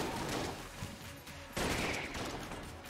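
Rapid video game gunfire from Enter the Gungeon, a burst of quick overlapping shots with a sharp louder blast partway through, over busy game noise.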